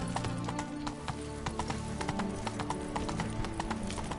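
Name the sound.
horse hooves clip-clopping in a video game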